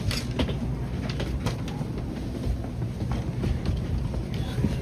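Inside a Shinkansen bullet train pulling away, a low steady rumble carries faint repeated clicks and rattles, with murmured voices in the background.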